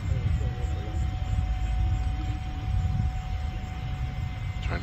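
An Avios Super Tucano RC airplane climbs steeply after takeoff at a little over half throttle with flaps and gear up, its motor a steady buzzing drone under outdoor wind noise.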